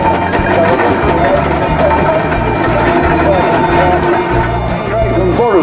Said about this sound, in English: Single cylinder power ploughing engine